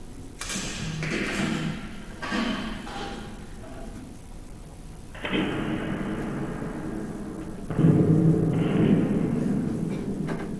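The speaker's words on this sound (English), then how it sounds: "now he's loading the projectile launcher" A projectile launcher being loaded in a physics classroom demonstration: low mechanical rumbles with scraping, sliding segments and dull thuds, moderately loud and close, with no one speaking.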